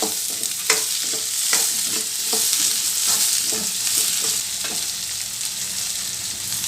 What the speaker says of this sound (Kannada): ಮತ್ತೆ ಸೋಂಪು ಕೊಡಂಬಿ ಇದೆಲ್ಲ ಚೆನ್ನಾಗಿ ಫ್ರೈ ಆಗಬೇಕು